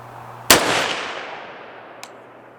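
A single sharp rifle shot from a Palmetto State Armory PA-10 Gen 3 with a Ballistic Advantage barrel cracks loudly on a target range, then a long decaying echo trails off, followed by a faint metallic tick.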